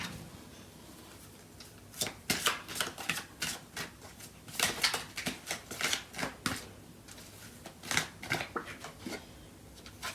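Tarot cards being shuffled in quick crisp riffling bursts, close and fairly quiet, with short gaps between runs and no voices.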